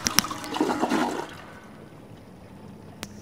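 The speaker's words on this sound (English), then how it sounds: "Sound for flushing the toilet happened." A toilet flushes in the video game Bendy and the Ink Machine, a short loud gushing rush that fades into a faint trickle, with a sharp click near the end.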